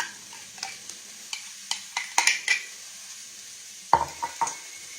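A cup of mayonnaise being spooned into a big mixing bowl, heard as soft wet scrapes and light clinks of the spoon against the bowl, irregular and close, with no talking.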